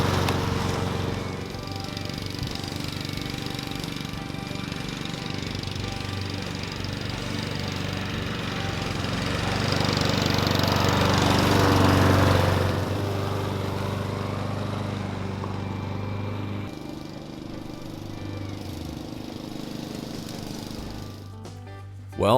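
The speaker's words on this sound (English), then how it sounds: "it's time to get the mower out and clean up the debris." A lawn mower cleaning up and bagging lawn debris runs steadily throughout, a continuous engine drone that swells louder midway as it passes close, then eases back without any talk.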